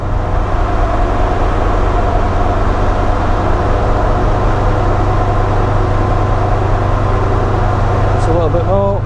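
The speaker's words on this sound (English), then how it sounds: "So just bringing the vehicle speed up now to 3000 RPM." A Land Rover Defender Td5 diesel engine runs steadily on a dyno while being brought up to about 3000 RPM, a loud, constant low drone with a hum underneath and a brief rising tone near the end.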